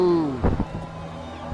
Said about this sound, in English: His engine gave out.